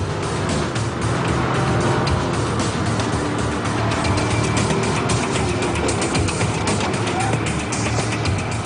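A Gumpert Apollo supercar driven fast by a professional racing driver on a difficult 21-kilometer test course, a loud continuous engine roar and road rush with no breaks, with a voice talking over it.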